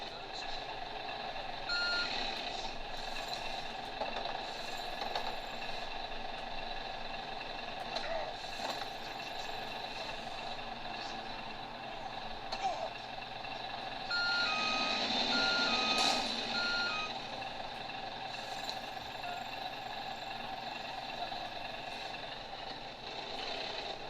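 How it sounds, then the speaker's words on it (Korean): Watch Dogs: Legion game audio plays through laptop speakers: a truck's reversing beeps repeat over steady engine rumble and city ambience, with in-game voices talking throughout. "와치독 리전을 제가 랩탑 스피커로 그냥 이렇게 사운드 뽑아내면서 플레이할 때 그때의 이 사운드, 상황, 이 들리는 소음 한번 들어보시죠"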